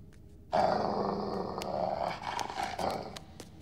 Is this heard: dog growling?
yes